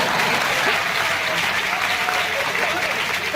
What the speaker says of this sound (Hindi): तालियां गलत जगह बजेगी